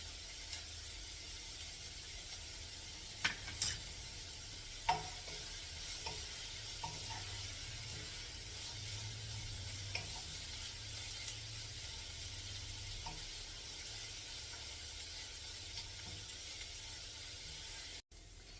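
Steady soft sizzle of salted ingredients being sautéed in a pan for a mixed dal fry, a continuous low frying hiss broken by a few faint clicks of stirring, with no talking.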